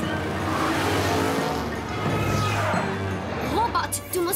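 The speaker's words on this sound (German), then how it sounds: "Tante Christy, tritt aufs Gas." A cartoon car speeds up with a rising engine whine and squealing tires. Dialogue and background music run over it throughout, and the engine sound carries through to the end.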